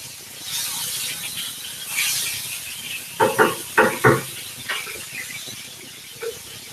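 Steady hiss of green chilli sauce frying in an electric frying pan, with a few louder pops and spits crackling over the sizzle near the middle.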